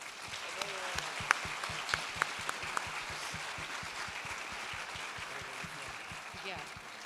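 Audience applause at the closing ceremony of the MILSET Expo-Sciences International 2023, a steady wash of clapping with a few sharper claps standing out early on and faint voices murmuring underneath.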